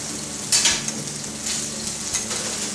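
Pork tenderloin frying in a pan: a steady, loud sizzle with crackling spits and brief scraping surges as the meat is moved, close and alone.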